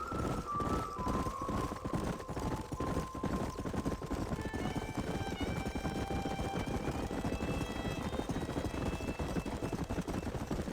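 Horses galloping in Red Dead Redemption 2: rapid, steady clip-clop of hooves pounding on and on, with sustained musical tones drifting above the hoofbeats.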